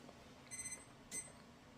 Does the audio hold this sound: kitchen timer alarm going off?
yes